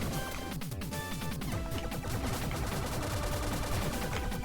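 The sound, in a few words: gunfire attacking a turret in the video game Blaster Master Zero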